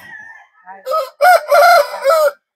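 A rooster crows loudly and close by, a drawn-out multi-part call, after a few softer clucks and bird sounds.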